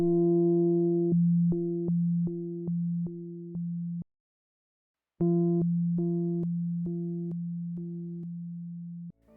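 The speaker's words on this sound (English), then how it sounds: "I can just start playing a test signal" A steady electronic test tone hums with short repeated beeps over it. It stops for about a second, then the same pattern of beeps plays again.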